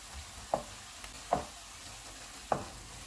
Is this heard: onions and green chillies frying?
yes